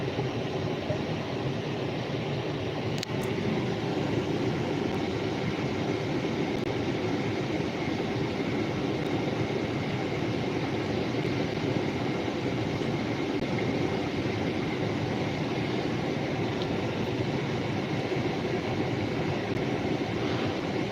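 A B&P freight train rumbles past in East Butler, Pennsylvania, a steady, continuous drone of rail cars and engine noise holding at an even level throughout, with no speech.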